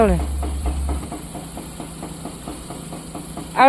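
A car engine idles steadily with a low, even hum throughout, growing slightly louder at the very end, while a driver is learning to reverse.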